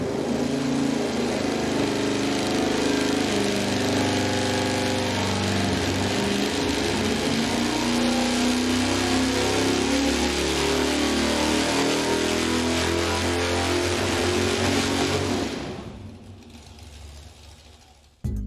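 A V8 engine on a dyno runs hard at steady high revs, a loud, rough, continuous roar for about fifteen seconds before it cuts off and winds down to near silence.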